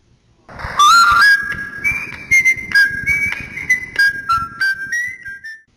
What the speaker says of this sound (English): when you've got time for whistling on a show, you've got a lot of time